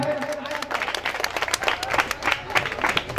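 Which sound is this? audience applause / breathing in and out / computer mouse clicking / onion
audience applause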